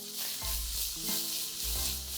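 Onion and tomato frying in a pan, a steady close sizzle with a few soft stirring scrapes and clunks through it, no voices.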